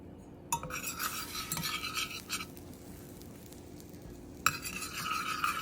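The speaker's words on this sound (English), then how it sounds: "Okay, get your butter melting." Butter melting in a pan before morel mushrooms go in, with a soft steady sizzle and a utensil scraping and stirring against the pan close up, in bursts between quieter stretches.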